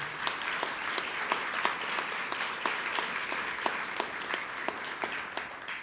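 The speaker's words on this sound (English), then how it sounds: "So a round of applause for these colleagues too." Sustained applause from a graduation ceremony audience in a college hall, dense steady clapping with sharp individual claps standing out, moderately distant and continuing alone without talk.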